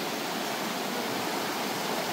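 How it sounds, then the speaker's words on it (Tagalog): River water runs in a constant, even rush, like a stream or small waterfall, with no talking over it. "Running water."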